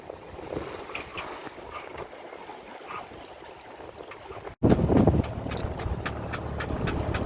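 A small sailboat under way at sea on a passage from Lerwick to Fetlar in Shetland: a steady wash of wind and water rushes around the hull. An abrupt cut leads into louder, closer splashing and gusts.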